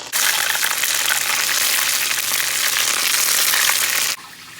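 Mushrooms fry in a pan with a loud, steady, dense sizzle that holds for about four seconds and then cuts off abruptly.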